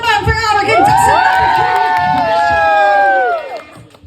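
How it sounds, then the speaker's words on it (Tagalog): Children's party crowd at a first birthday celebration cheering and shouting loudly for a contestant, high excited voices whooping together over scattered claps, then tapering off near the end. "Palakpak naman for our contestant."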